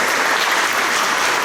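A church congregation claps in a steady, dense burst of applause that fills the short moment, loud and close, with no talking.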